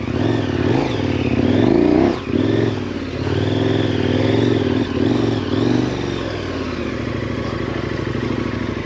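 A KTM 1090 Adventure motorcycle engine drones loudly and continuously during adventure riding, its revs rising and falling with a brief dip about two seconds in.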